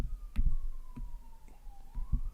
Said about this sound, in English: How is there another ambulance?